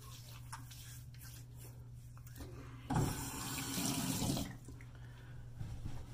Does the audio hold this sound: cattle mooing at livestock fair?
no